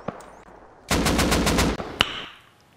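Rapid automatic gunfire in the survival video game Rust, a dense burst of about eight loud close shots followed by a single sharp shot, with no talking.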